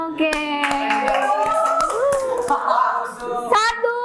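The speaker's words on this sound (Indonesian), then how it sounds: "Oke, tepuk tangan dong" Children clapping hands in an Indonesian classroom, a few sharp separate claps spaced out under a teacher's and children's voices, which run through most of the moment.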